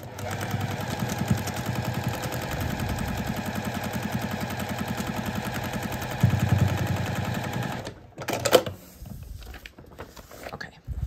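A sewing machine stitches a quilt block seam with a fast, steady mechanical chatter for about eight seconds. It stops abruptly, and a few softer clicks and handling sounds follow.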